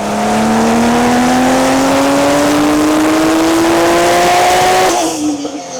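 A loud turbocharged Porsche 993 engine on a dyno revs up in one long, steadily climbing pull, short of redline, then abruptly cuts off and the roar drops away.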